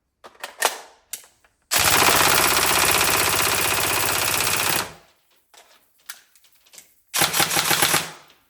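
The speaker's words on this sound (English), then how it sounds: "So as you can see, it's a really good rate of fire." Tokyo Marui Mk18 NGRS airsoft electric gun firing full auto: a few quick single shots, then a sustained loud buzzing burst lasting about three seconds, then scattered faint clicks and a second shorter rapid burst.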